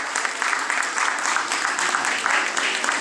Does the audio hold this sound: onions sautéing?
no